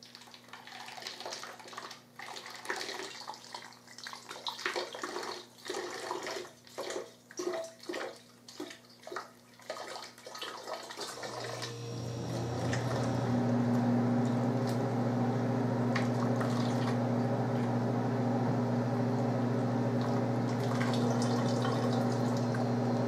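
Water pours steadily into a container for a citric acid solution (600 ml) as part of making CO2, beginning about halfway through after quieter handling sounds and continuing loud and constant to the end.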